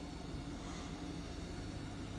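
An Air Congo airplane in the Democratic Republic of the Congo gives off a steady, broadband engine drone that holds even throughout, with no voices.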